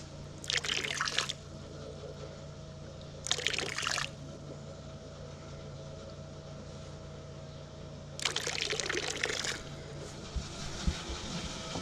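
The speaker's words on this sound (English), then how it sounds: "One thing we have to periodically do is pump the bilge out, and that's what I'm doing at the moment." A narrowboat's bilge is pumped out, with three bursts of water gushing and splashing from the discharge, separated by steady pump hum and background rumble, fairly close and no talking.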